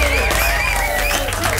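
An audience cheers and applauds at a live music show, a dense, loud roar of claps and voices with music still sounding through it.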